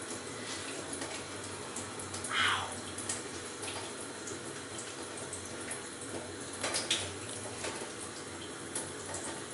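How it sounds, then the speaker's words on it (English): A steady hiss of very hot water running from a tap, continuous and moderately loud, with small clinks and shifts along the way. "I just open the tap by the side"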